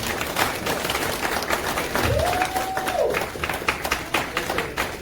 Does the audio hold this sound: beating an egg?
no